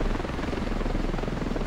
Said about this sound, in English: Oh my god, I love the new helicopter.